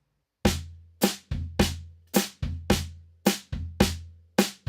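Snare quarter notes ride over a samba bass drum foot pattern with hi-hat, a steady repeating groove of sharp, close, loud hits with low kick thumps beneath, played alone without talk.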